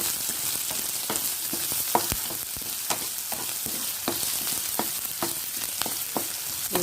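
Garlic paste sizzles and fries in hot oil in a pan for an okra fry, a steady close hiss broken by regular sharp scrapes and taps of a spoon stirring.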